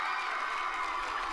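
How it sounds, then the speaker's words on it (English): A crowd applauding and cheering to welcome a guest onto a Titanic history podcast, a dense, steady wash of clapping and cheers heard close and loud throughout the brief moment, with no talking over it. "Oh, I love the applause."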